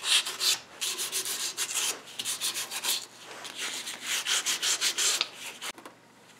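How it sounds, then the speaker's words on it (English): Sandpaper of 320 grit rubs back and forth on a knife handle in quick, rhythmic strokes, close by and fairly soft, with brief pauses between bursts. "I'll take some like 320 grit sandpaper after and just sand it down here"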